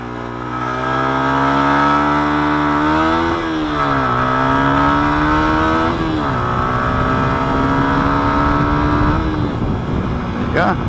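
A Yamaha R15 motorcycle revs hard and pulls away from traffic lights, its engine note rising steadily through the gears, loud and close for the whole stretch with wind noise over it.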